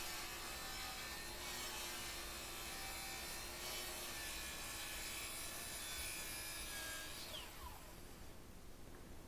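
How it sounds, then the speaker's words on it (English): A saw cuts an angle through wood stock clamped to a jig, giving a steady loud rasping drone with a high whine that runs for about eight seconds before winding down at the end. "Now I can clamp the stock to the jig and make the second angled cut."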